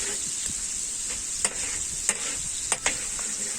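Small pieces of big cuttlefish and calamari frying slowly in olive oil, giving a steady close hiss and sizzle with a few soft stirring knocks, and no talk.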